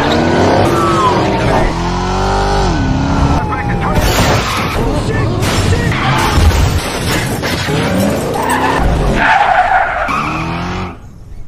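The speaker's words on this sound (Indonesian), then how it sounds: "pelaku yang lainnya berhasil melarikan diri dengan menggunakan mobil hingga terjadilah aksi kejar-kejaran" Cars in an action film chase scene skid loudly, with screeching tires and roaring engines through most of the stretch, crashing and smashing sounds mixed in, and a sudden drop to quiet at the very end.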